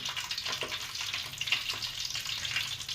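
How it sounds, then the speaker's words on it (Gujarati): Dry masala kachoris frying in medium-hot oil, a steady, close bubbling sizzle that holds evenly with small crackles and no voices. "મીડિયમ તેલમાં આપણે એક એક કરીને કસોરી પૂરી દઈએ છીએ"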